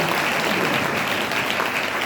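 A church congregation applauds loudly for God during a Hindi worship service, a dense, steady wash of clapping that holds even for the whole stretch with no voices over it.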